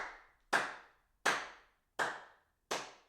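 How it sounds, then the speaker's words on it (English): Four crisp, isolated hand claps from the show hosts, evenly spaced about three quarters of a second apart, each ringing briefly in a quiet room with nothing else around them. "give yourself a round of applause"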